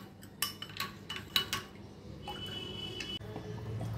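A metal spoon stirs flour into a small amount of milk in a bowl, quick close clinks and scrapes in uneven bursts, then a softer swirling, no voices.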